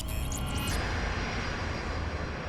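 A Crossair airliner flies its approach into Zurich Airport in snowy, worsening weather, its engine drone a steady, heavy rumble heard from inside the aircraft.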